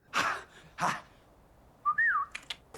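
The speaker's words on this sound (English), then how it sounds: "What's this thing you do, the whistle with the clicking?" Signature call of a character from the animated film Fantastic Mr. Fox: two short sharp clicks, a pause, then a rising and falling whistle ending in a few quick clicks.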